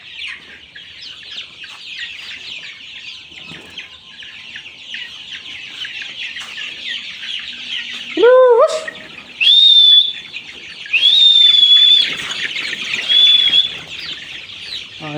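Chickens and roosters on a poultry farm near Purbachal 300 Feet cluck steadily and close up. Several louder, drawn-out crowing calls and squawks come in the second half, and wing flaps are heard among them.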